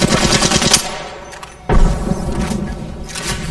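Rapid machine gun bursts rattle in the video game Apex Legends, loud and close, broken by a brief lull and a heavy thud before the firing resumes.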